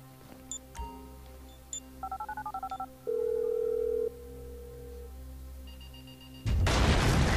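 A mobile phone in GTA V dials a detonator: a string of beeping keypad tones, then a steady ringing tone and a higher beep, ending in a sudden loud explosion blast.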